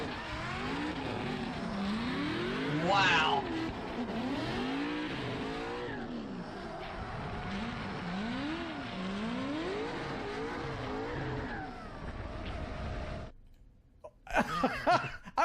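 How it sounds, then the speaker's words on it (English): Race cars at a motorsport race, engines rising and falling in pitch as they accelerate and pass one after another, loud and continuous, dropping away briefly near the end before another burst. "this amazing view of a motorsport race"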